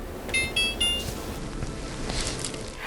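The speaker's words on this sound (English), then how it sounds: "you want to set your timer" A kitchen timer being set while tomatoes broil gives three short, faint electronic beeps in quick succession, over steady kitchen background noise.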